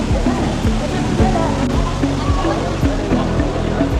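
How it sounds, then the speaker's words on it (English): A water fountain outside the entrance of Pavilion Mall in Kuala Lumpur at night gives off a steady, loud rush of falling water. Crowd murmur and low rumbling mix in, and there are brief dull knocks. "Here's another view of the water fountain from another angle."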